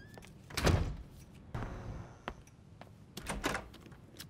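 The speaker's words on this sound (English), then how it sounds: "Close the door on your way out." A door in the video game GTA 5 shuts with a solid thunk, followed by a few softer knocks and bumps, close by in a quiet room.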